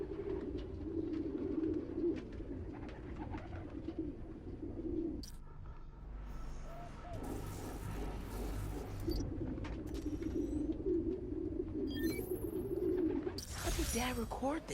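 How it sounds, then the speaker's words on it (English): Pigeons coo in a park in the Spider-Man Miles Morales video game, soft throaty calls repeating under a busy outdoor ambience, with brief louder bursts and a sharp chirping near the end. "Place was swarming with pigeons."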